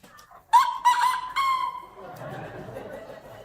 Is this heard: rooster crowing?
yes